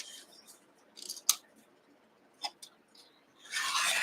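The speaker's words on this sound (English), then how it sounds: "you can use scissors" Scissors snip through quilt fabric trimmed a quarter inch from a seam, giving several crisp, close cuts in an irregular rhythm that end in a longer rasping slice.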